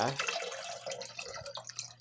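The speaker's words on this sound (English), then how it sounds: "dump that chicken stock in there" Chicken stock is poured into a large pot, a close, continuous liquid splash and gurgle that pours steadily for a couple of seconds.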